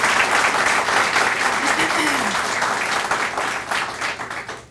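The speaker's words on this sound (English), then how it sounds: "Can we have a round of applause for them as well?" Steady, full applause from an audience at a talk on gratitude and mindfulness, a loud, even wash of many hands clapping that carries on throughout and fades slightly at the end.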